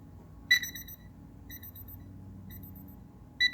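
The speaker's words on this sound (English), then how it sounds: "So not the loudest timer that you've ever heard" Bursts of a high electronic beeping alarm from a kitchen timer repeat about once a second, fairly quiet over a low background hum.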